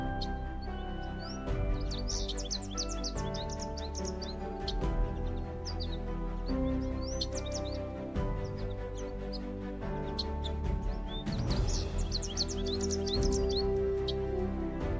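Macaws call in the Amazon rainforest in repeated bursts of bright, scratchy chirps over a continuous layer of tonal music.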